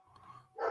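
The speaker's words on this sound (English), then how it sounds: "my dog's barking" A single faint, short dog bark in the distance, closing a brief quiet moment with no talk.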